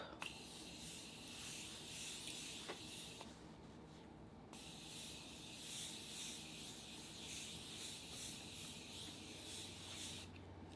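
Morphe Continuous Setting Mist sprayed in a long, faint, rhythmic series of soft hissing pumps at close range with no talking.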